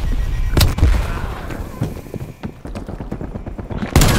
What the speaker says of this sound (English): Throwing Semtex.